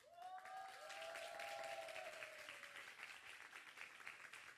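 An audience claps warmly for an orchestra's flute section standing up at a Thursday church service, steady applause filling the room with no one speaking over it.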